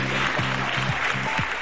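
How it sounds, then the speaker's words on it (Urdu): Studio audience on a Pakistani morning talk show clapping to welcome a guest onto the set, a dense, steady wash of applause with no break, with a voice briefly audible underneath. "بہت ساری تالیاں ہونی چاہیے."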